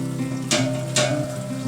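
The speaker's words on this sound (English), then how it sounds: "Heat up the 4 ounces of butter over medium-high heat till it's melted" Four ounces of butter melts in a pan over medium-high heat with a steady close sizzle and two brief louder spurts.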